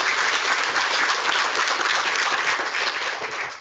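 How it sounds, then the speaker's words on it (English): Steady, dense applause from a conference audience after a keynote presentation, many hands clapping together at full volume throughout and easing slightly at the end. "A round of applause for Sander on a really fascinating presentation"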